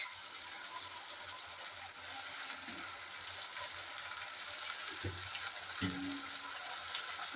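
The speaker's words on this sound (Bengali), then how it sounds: "এবার এই আদা, জিরে, শুকনো লঙ্কা আর রসুন বেটে রেখেছিলাম দিয়ে দিলাম পেস্ট" A paste of ginger, cumin, dried chili and garlic fries with onions in a pan, giving a steady, fairly quiet sizzle with a few soft stirring bumps and no talking.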